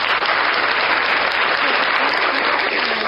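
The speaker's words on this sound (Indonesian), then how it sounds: "Ya, tepuk tangan sendiri. Tepuk tangan lagi." Canned applause sound effect played through a sound card at a shopping-mall drawing event, a dense continuous crowd clapping, loud and even throughout with no pauses.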